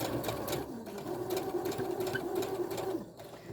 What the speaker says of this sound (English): let's sew around this